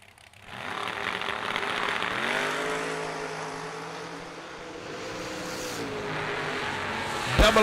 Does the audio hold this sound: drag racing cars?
yes